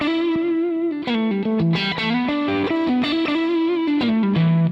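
A loud, sustained distorted electric guitar solo boosted through a Boss GE-7 EQ pedal, with a glassy top end, bending and sliding notes over steady playing, alone without voices.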